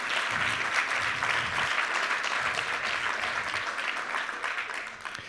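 Kids in a school audience give their parents a round of applause, dense steady clapping with some low thumps underneath, holding loud before easing slightly at the end.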